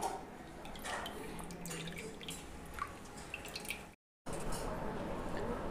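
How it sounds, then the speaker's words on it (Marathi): Washed raw potato chips draining in a sieve, with close, continuous dripping and light trickling water, a brief silent gap near the end, no speech. "आता हे चिप्स मी असे ह्या चाळणीवर काढून घेणार आहे आणि थोडंसं पाणी नितळलं की"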